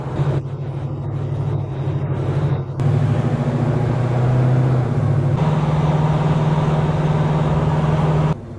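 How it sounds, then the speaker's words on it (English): A C10 truck engine revs and pulls, giving a loud, steady, low drone heard from inside the cab that shifts pitch as it accelerates and upshifts, with no talking. "Let's give it a little bit of gas here"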